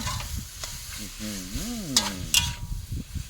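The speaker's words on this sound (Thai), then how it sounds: "ผัดให้หน่อไม้สุกอีกนิดนึงนะครับ" Sour bamboo shoots with curry paste and meatballs are stir-fried in a hot pan, giving a steady sizzle under clattering, scraping strokes of a spatula, with a brief tonal sweep partway through.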